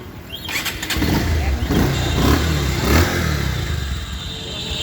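A second-hand Bajaj Pulsar 150 motorcycle, in very fresh condition, starts up close by and settles into a steady, loud engine idle with slight revs.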